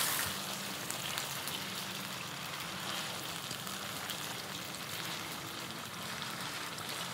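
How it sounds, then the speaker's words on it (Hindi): Chicken frying in a karahi for a Baloch masala tikka dish: a steady, broad, hissing sizzle that stays even and fairly quiet throughout, with no talking. "बस अब हम इसको अच्छे से फ्राई करेंगे"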